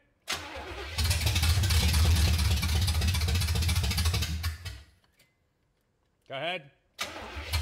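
An abandoned 1970 Oldsmobile Cutlass engine cranks and catches, roaring loudly for several seconds before cutting out, followed by a brief whine and another burst of running, with someone speaking briefly.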